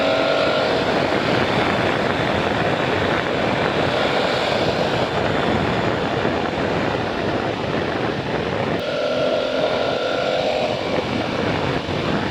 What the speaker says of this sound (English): airbox induction noise, which is kind of nice, I guess.